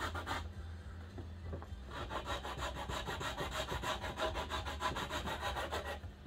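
Sandpaper glued to an angled wooden block rubs back and forth across wood for a stand-up paddle, making a steady, rhythmic series of close, scratchy strokes.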